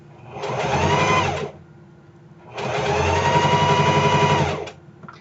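A serger sewing machine stitches fabric in two loud, steady runs, a short burst followed by a longer one, with a brief quiet gap between them.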